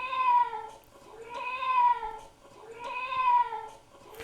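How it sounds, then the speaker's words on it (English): A cat meows three times in a steady repeating loop, each meow drawn out and clear, with no other sounds. "we can hear the cat will meow over and over again"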